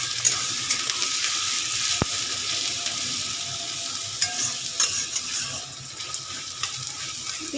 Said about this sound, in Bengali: দিয়ে দিলাম মিহি করে কুচিয়ে রাখা পেঁয়াজটা